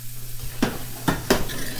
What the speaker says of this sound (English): then I'm supposed to stir this for just a couple minutes